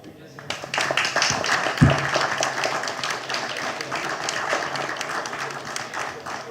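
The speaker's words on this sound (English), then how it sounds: "A round of applause." Audience applause closing a green hydrogen energy panel, a thick patter of clapping that rises quickly after a sharp thump and continues at a moderate level while a voice talks over it.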